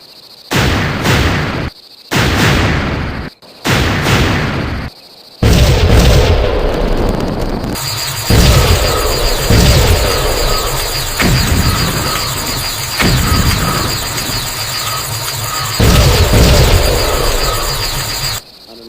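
Artillery guns firing on command, heavy booming blasts: three short separate bursts, then a longer sustained barrage of rumbling explosions, loud and close.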